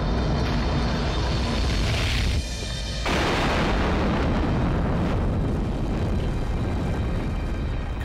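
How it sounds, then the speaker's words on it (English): A rocket engine undergoing combustion instability gives a loud, sustained roaring blast of broadband rumble, briefly dropping to a thinner hiss midway before surging back into continuous thunderous noise. "Combustion instability."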